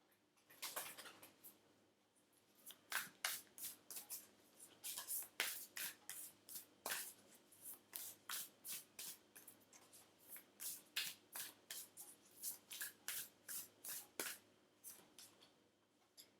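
Oracle cards being shuffled by hand on a table, a series of quick, crisp riffling bursts in an uneven rhythm, close and fairly quiet, with no talking.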